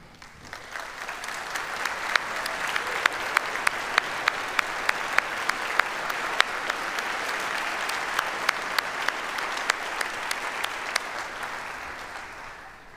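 Sustained audience applause at a university's State of the University address, a broad, steady wash of many hands clapping with distinct sharp claps standing out, holding for several seconds and then tapering at the end.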